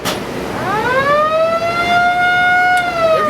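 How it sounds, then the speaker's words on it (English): The warning siren of the Memorial Lift Bridge in Portsmouth, New Hampshire winds up from low to a high, sustained wail, loud and steady, rising smoothly before holding its pitch. "before the bridge moves, that siren sounds"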